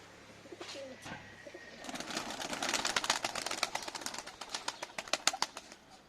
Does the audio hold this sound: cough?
no